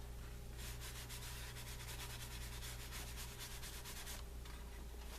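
A saddle-tanned leather holster with dark brown edges is buffed by hand, a steady close rubbing swish in repeated strokes over a constant low hum, with a brief pause near the end.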